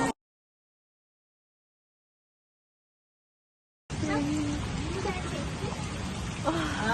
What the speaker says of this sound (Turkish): Yere iki damla yağmur düşüyor